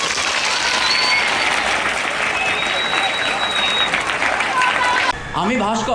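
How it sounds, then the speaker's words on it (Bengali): A crowd of students and staff at a school farewell for a teacher clapping loudly and continuously for several seconds, followed by a brief moment of talking near the end. "সবাই একটা জোরে করতালি দেবে"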